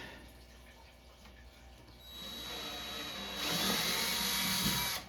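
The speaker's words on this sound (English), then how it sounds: "I'm gonna run the drill bit through there just to be on the safe side" A quiet power drill whirs up while restoring a Journey arcade cabinet, its pitch and loudness rising in two steps as the bit spins, with a thin high whine throughout.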